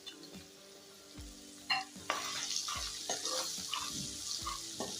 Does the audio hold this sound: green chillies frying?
yes